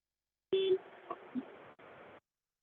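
Electronic telephone tones from an unmuted phone line on a conference call, a loud steady tone burst followed by a wavering, crackly stretch of line noise that cuts out briefly, then resumes before stopping.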